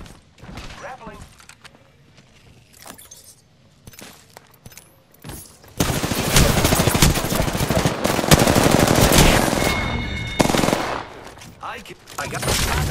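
Rapid automatic gunfire bursts loudly in an Apex Legends firefight, starting with scattered shots and then becoming dense, sustained fire with game effects layered in, while a voice speaks between the volleys.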